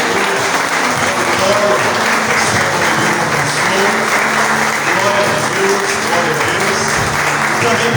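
A congregation at a church service in Avaré, Brazil claps steadily and enthusiastically for several seconds, a dense, continuous wash of applause filling the room.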